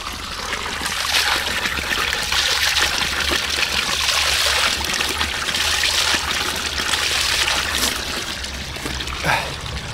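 Cold mountain spring water trickles and splashes from a pipe at a forest spring near Ai-Petri in Crimea, a continuous close hiss of running water with faint wind underneath.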